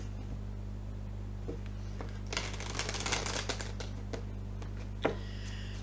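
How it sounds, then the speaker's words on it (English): Tarot cards are shuffled by hand in a quiet room, with a dense burst of riffling and clicking midway, scattered soft card taps before and after, and a sharp snap near the end over a steady low hum. "Oh, that wasn't a very even shuffle part there"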